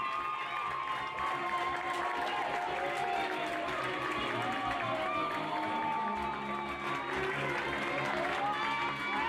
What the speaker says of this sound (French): Allez, on va applaudir très fort ce tour d'honneur.